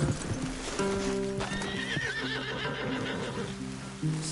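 Horses in Red Dead Redemption 2 whinny and neigh clearly while hooves clip-clop nearby, layered over a faint rainy ambience and soft game music tones, with no talking.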